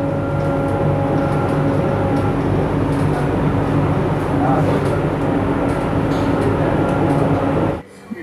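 A Kolkata metro train rolls into Jessore Road station with a loud, steady rumble and hum that lasts several seconds before cutting off abruptly.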